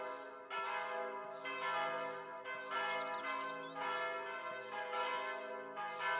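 Church bells in the Mon Bazou game ring out repeatedly, about ten rich sustained strikes in a steady rhythm, overlapping and resonant, with no talk.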